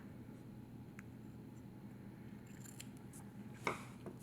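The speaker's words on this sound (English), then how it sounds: "And I'm going to snip the corners off." Scissors snip the corners off a piece of fabric with a few quiet cuts over a low steady hum, ending in a sharper single snip.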